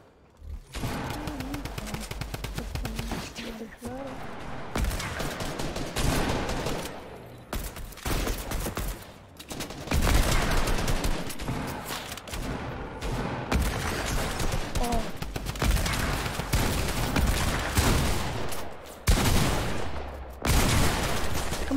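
Fortnite gameplay gunfire crackles in dense bursts and rapid volleys, loud and near, with brief pauses between rounds of shooting and no talking.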